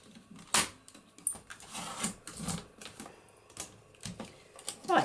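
Paper for a craft page is trimmed by hand, making a few quiet, sharp snips and crisp rustles spaced irregularly against a near-silent room, with no talking.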